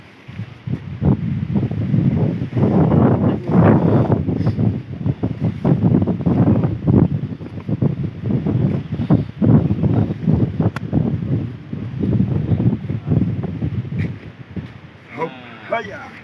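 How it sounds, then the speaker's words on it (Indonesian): Strong wind gusts through Cibodas National Park, a dense, continuous rush and buffeting against the microphone lasting throughout, with voices talking underneath. "Angin kencang di daerah Cibodas."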